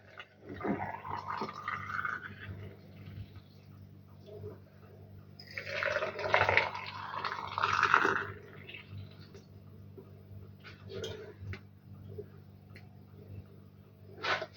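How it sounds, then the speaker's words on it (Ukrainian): Boiling water pours and splashes over cherry tomatoes in glass jars in a few bursts, with quiet gurgling and trickling between pours, close by. "водичка закипіла, я заливаю знову помідорчики"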